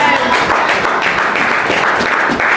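A church congregation applauds to acclaim the Lord, with loud, dense, sustained clapping from many people across the whole stretch, close and steady.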